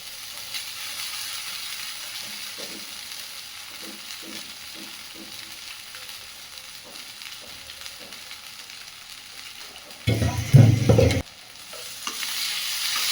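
Chowmein is stir-fried with spices in a pan, with a soft continuous sizzle, scattered scraping taps as it is tossed, and one loud sudden sizzling clatter near the end, with no talking.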